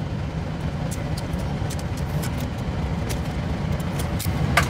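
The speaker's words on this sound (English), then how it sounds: "my apologies for the noise, the furnace has turned on." A home furnace kicks on and runs with a steady, even low rumble and airy whoosh that stays constant throughout, fairly close, with no speech over it.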